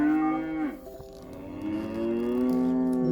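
Cows moo as a sound effect in a read-aloud children's story, long drawn-out lowing calls overlapping one another, loud and close, with no speech over them.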